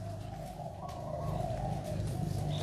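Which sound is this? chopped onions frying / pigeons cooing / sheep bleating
pigeons cooing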